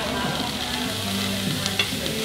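Shrimp sizzle steadily on a grill, a continuous bright frying hiss that stays loud and even throughout the brief moment, with no talking over it.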